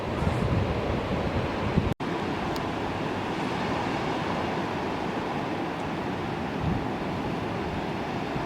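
Ocean surf breaks at Patrick's Point on the Northern California coast, a continuous broad roar of waves mixed with wind buffeting the microphone.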